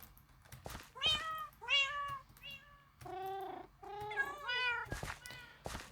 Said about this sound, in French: Ah bah c'est des chats.